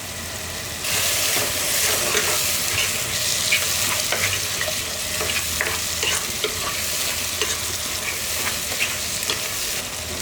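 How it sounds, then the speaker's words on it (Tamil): Vegetables for a tiffin sambar sauté in oil, a loud, dense sizzle running nearly throughout with scattered scraping and clinking from stirring, close to the pan. "இப்போ வந்து நம்ம இந்த காயெல்லாம் நல்லா வதங்கிடுச்சு. இந்த எண்ணெயிலேயே நல்லா வதங்கிடுச்சு."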